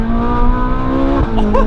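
A Ferrari 458 Spider engine drones loudly at steady revs while driving, a strong harmonic hum that dips briefly and picks back up near the end.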